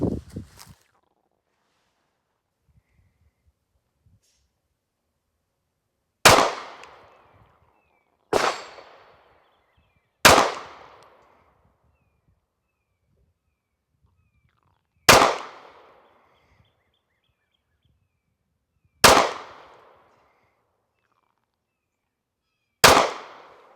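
Six sharp pistol shots from a Masada Slim handgun fired at 25 yards outdoors, spaced unevenly a few seconds apart, each a loud crack with a quick decaying tail, with near silence between them.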